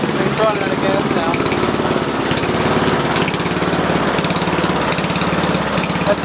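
A Honda HRS21 push lawn mower engine runs steadily and loudly, with a continuous close rattling drone and no letup.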